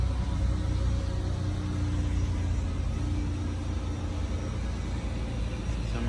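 A 2008 Ford Fusion, sold as-is with some rust, idles steadily up close, a constant low engine rumble with no talk over it.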